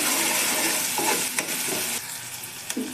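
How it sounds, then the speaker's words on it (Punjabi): Onions roasting in a pan for a home-style dal give a steady close sizzle, with a few clicks and scrapes of stirring breaking through and no voices. "ਪਿਆਜ਼ ਨੂੰ ਆਪਾਂ ਭੁੰਨ ਲਵਾਂਗੇ ਜੀ"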